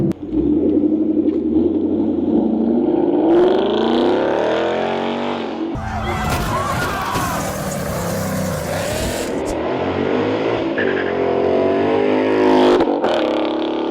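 A Ford Mustang with an upgraded exhaust accelerating at full throttle through the gears, a loud rising roar that shifts, drops and climbs again, with crackling bursts mid-run and a strong throaty rumble.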